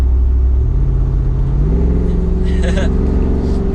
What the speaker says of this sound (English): Jeeps are not known for being the quietest on the interior, and even with this exhaust with the performance on